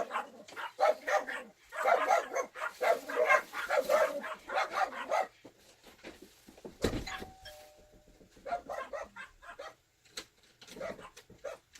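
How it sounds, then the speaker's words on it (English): Several dogs bark and yip in quick bursts, fairly close, pausing briefly before the barking picks up again. "sorry about the dogs; they think they own this house"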